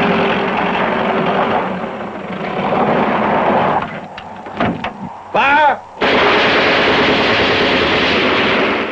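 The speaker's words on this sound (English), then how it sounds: "They only have a machine gun now, but they could come back with something heavier" Heavy machine-gun fire in a science-fiction film roars as a dense, sustained barrage, breaks off into a few sharp separate blasts and whooshes, then resumes loudly.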